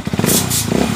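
Honda TMX155 motorcycle engine, freshly tuned up, starting and revving close by in one loud, continuous burst with a throbbing low rumble and some mechanical clatter.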